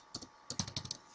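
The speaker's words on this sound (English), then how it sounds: "Now type the code" Code being typed on a computer keyboard: a short quick burst of about eight light key clicks, close and clear, with no talking.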